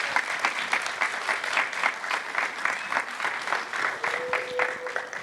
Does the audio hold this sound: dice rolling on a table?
no